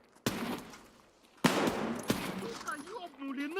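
Escape From Tarkov gunfire: a sharp shot, then after a pause a louder crack with a second report close behind, echoing tails and scattered game sounds afterward.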